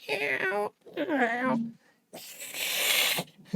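Many cats meowing and yowling in an alleyway, loud close cries in two bursts with a gap, then a dense harsh wail that swells and holds.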